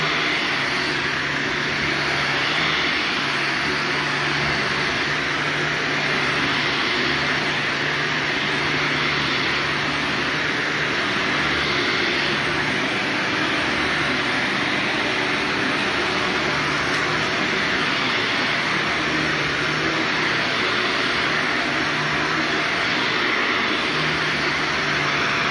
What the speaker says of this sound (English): I'll just keep vacuuming the main open areas for you guys